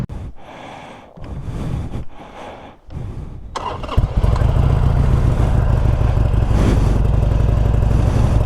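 A Sportster-style motorcycle on the shoreline at Caribou Island, Nova Scotia, cranks with a few labored turns, then fires up into a loud, steady, close idle.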